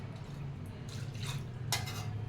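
Water is splashed into a cooking pot in a home kitchen while preparing a leafy-greens dal, heard as two short wet gushes with faint clinks over a low background hum.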